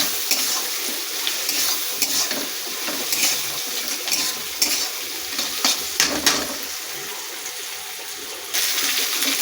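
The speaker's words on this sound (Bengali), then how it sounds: "দেখো আমি পেঁয়াজটাকে ভালো করে নেড়ে নিচ্ছি" Onions stirred and fried in a pan: loud sizzling with repeated scraping strokes of a spoon, bursts of hissing rising and falling as they are turned.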